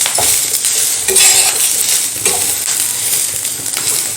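Coconut, ginger and garlic roasting in a pan, a bright crackling sizzle with scraping stirs of a spatula and a few metallic clinks, close and steady throughout with no voices.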